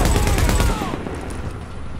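Dense bursts of automatic gunfire from the video game The Division crackle loudly for under a second, then thin out into a fainter, echoing rumble.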